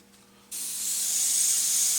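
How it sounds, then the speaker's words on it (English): Airbrush blowing out leftover paint: a sudden sharp hiss starts partway through after near-silence, then holds steady and slightly grows as a bright, continuous spray of air and paint close to the nozzle. "we want to spray out any paint that is left."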